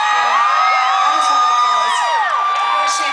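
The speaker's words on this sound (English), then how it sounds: "Shameless applause, California." A concert crowd at a show in Irvine, California, whooping and cheering loudly with high shouts and yells layered over a dense roar, continuous throughout.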